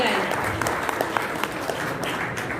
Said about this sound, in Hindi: इनके लिए बहुत बहुत तालियों के साथ मैं चाहूंगी कि इनका जोरदार स्वागत किया जाए।